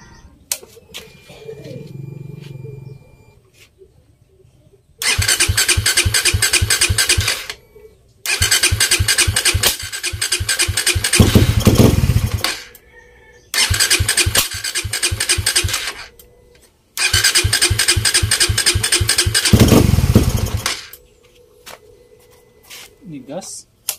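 Motorcycle engine, running on old expired fuel, starts up and idles in repeated loud bursts of several seconds each, separated by short pauses and brief quiet stretches.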